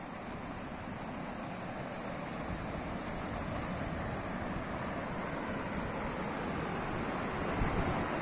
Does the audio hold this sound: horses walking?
no